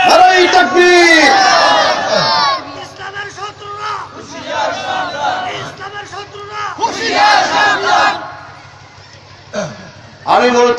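A large crowd roars a takbir response in unison at a Bengali religious gathering, loud and close, the swelling shouts rising in bursts between a speaker's impassioned calls.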